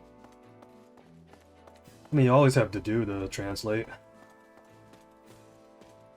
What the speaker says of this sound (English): Ooh, look at this horse.